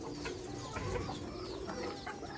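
Pigeons cooing on a rooftop near young chickens, soft low murmuring coos repeating irregularly at moderate distance, fairly quiet with faint bird chatter around them.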